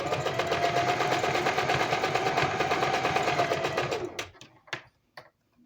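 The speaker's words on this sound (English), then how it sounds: "So I'll just show you me sewing on this part of the pocket" A serger sewing machine running steadily as it stitches a pocket, a dense, rapid mechanical whirr for about four seconds that then stops, followed by a few brief clicks and handling noises.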